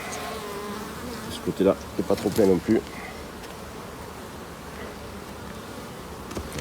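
Dense, steady humming drone of many honeybees around a beehive frame, close and continuous throughout, with someone speaking French briefly over it.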